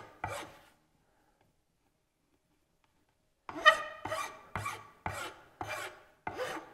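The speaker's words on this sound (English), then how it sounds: "the sanding will take care of whatever's left" Wood veneer being worked with abrasive, giving a single rasping stroke, a pause of silence, then a run of five or six steady, close, rhythmic scraping strokes, with no talking.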